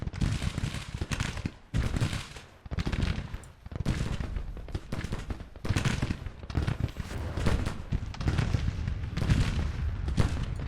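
Civil War battle in Grand Tactician: ragged volleys of musket and cannon fire repeat steadily for several seconds, a dense, moderately distant crackle of massed gunfire with no clear voices.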